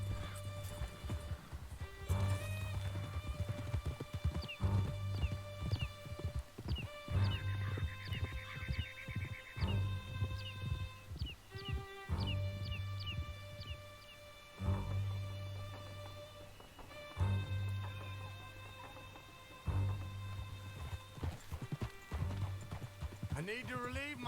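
A horse gallops in Red Dead Redemption 2, with clip-clop hoofbeats running under a constant low hum, tonal game music and gunfire, while voices speak over it.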